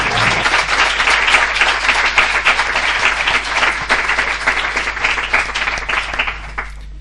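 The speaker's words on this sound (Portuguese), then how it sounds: "Um aplauso para minha mãe, que ela merece." Sustained applause from an audience at a literary talk, honoring a speaker's mother: dense, steady clapping that holds strong for several seconds, then thins and fades near the end.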